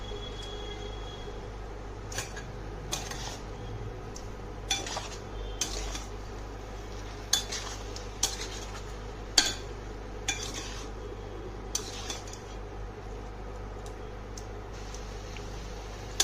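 Potatoes being stirred with poppy seed paste in a pan, a spoon scraping and knocking against the metal in irregular taps and clinks, fairly close, with no talk.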